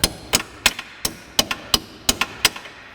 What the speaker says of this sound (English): Might need a little persuasion with a hammer.